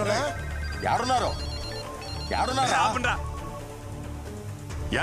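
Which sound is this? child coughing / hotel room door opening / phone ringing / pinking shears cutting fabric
phone ringing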